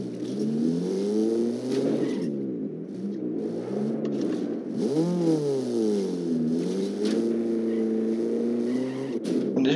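Race car from Need for Speed Underground 2 driving continuously, its engine drone rising and falling through revs and gear shifts with a tire squeal, loud and steady throughout.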